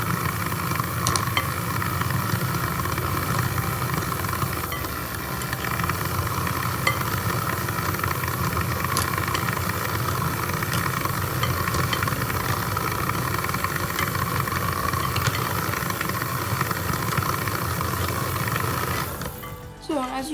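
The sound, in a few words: electric mixer beating an egg into caramel cake batter on low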